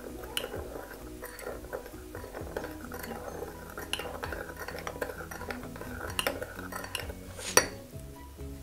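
A spoon stirs hot coffee with boiled milk in a cup, giving steady clinks and scrapes of metal on ceramic, with one brighter clink near the end, close and fairly quiet.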